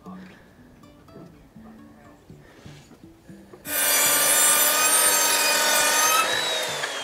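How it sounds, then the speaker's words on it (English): A power saw cutting through a timber decking joist, a loud steady whine that starts abruptly and runs about three seconds, after quieter handling and talk. "use this as a guide on your saw"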